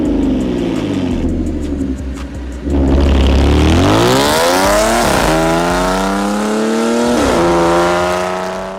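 An Audi S5 with a supercharged V6 and an aftermarket exhaust revs hard and loud, climbing through several rising sweeps with brief drops between gear changes, close and alone with no talk.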